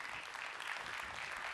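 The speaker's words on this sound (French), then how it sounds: "Vous pouvez les applaudir." An audience applauds the astronauts, a brief burst of steady, moderately distant clapping that holds at an even level.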